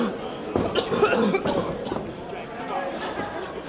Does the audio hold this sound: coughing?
yes